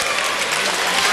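A basketball crowd at a France–Italy tournament game in Strasbourg breaks into dense, loud applause as a player comes on, a continuous wash of clapping.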